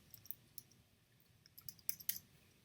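Light keyboard typing as a search keyword is entered, a short, faint run of soft clicks that clusters near the end over quiet room tone.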